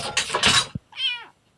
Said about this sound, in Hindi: यहाँ पर ये बिल्ली